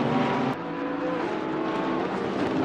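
GT race cars in Assetto Corsa Competizione battle during the Spa 24 Hours, a Bentley among them, engines droning loud and continuous as one car overtakes another with a brief sharp tick early on.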